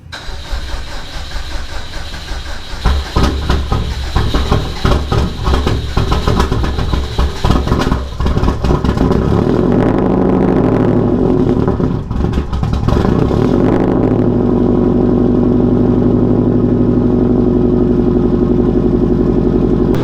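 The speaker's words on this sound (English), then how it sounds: "So pure ethanol, 500 horse STI, cold start." A 500-horsepower, pure-ethanol Subaru STI engine cold start: it cranks and catches, revs roughly a few times, then settles into a loud, steady idle with a deep rumble.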